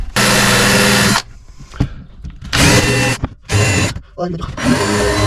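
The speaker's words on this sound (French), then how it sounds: "Un petit coup avec la fraise." Power router milling wood while building furniture for a 4x4 van, three loud bursts of high-pitched cutting at close range, separated by short gaps of quieter handling noise.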